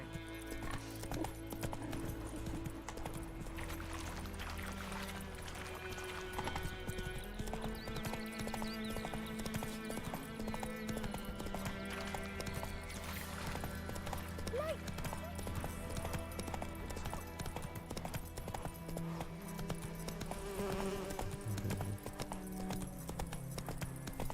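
Hooves of Roach, the horse in The Witcher 3, clip-clop at a steady gallop throughout, with a brief whinny, over continuous game music and ambience.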